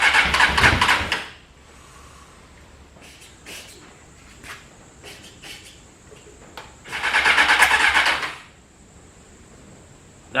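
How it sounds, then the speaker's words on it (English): Engine backfiring with bright flame shooting out, two loud raspy bursts near the start and after a quiet stretch, with a few short sharp pops between them. "That's what I was worried about, backfiring through here."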